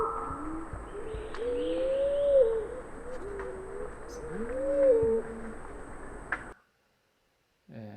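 An orange-bellied fruit dove's soft, rising and falling cooing notes repeat several times over a steady background hiss, then the recording cuts to silence before a brief sound at the end.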